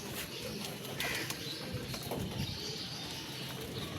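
Pigeons coo and rustle in a steady, busy flock, with soft wing flaps and scattered calls close by.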